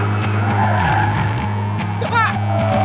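A Ferrari at full throttle with traction control holding a little rear slip, engine roaring loud and steady while tyres scrabble and squeal over it.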